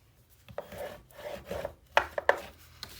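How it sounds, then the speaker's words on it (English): A bone folder or burnishing tool rubs firmly across paper on a Graphic 45 autumn mini album page, giving close, dry scraping strokes with a few sharper taps near the end. "Give her a good burnish."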